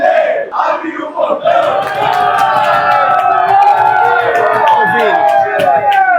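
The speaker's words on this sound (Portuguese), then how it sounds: "a torcida tá pedindo pro pessoal abrir o portão" A dense crowd of football fans outside a team hotel chants and shouts in rhythm for the gate to be opened, loud and close with overlapping voices and whoops throughout, during the World Cup in the USA.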